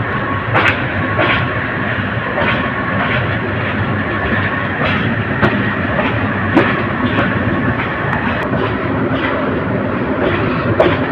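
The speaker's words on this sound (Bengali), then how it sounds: "কিশোরগঞ্জ এক্সপ্রেস ট্রেনটি ঢাকা বিমানবন্দর রেল স্টেশন ছেড়ে যাচ্ছে" The Kishorganj Express pulls out of Dhaka Airport railway station, a loud, steady rumble of rolling wagons with repeated clickety-clack wheel knocks and sharp metallic clanks spread through the run.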